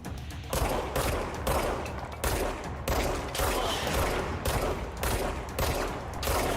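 Rapid bursts of gunfire from a player's gun in a video game, loud, dense volleys coming in repeated pulses about a second apart, with no talking.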